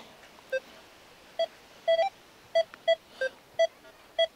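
A metal detector on a beach at Stegna beeps repeatedly at an uneven pace, crisp electronic tones standing out clearly over a quiet hissy background.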